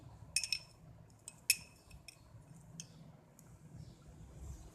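A metal spoon clinks quietly against a bowl as salt is added to fruit chaat, with a few bright taps close together and a couple more spaced out, faint in a quiet kitchen.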